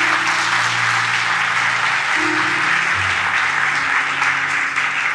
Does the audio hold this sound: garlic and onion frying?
no